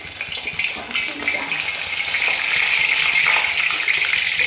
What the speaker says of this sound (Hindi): तो चलिए अब मैं इसको तल लूँ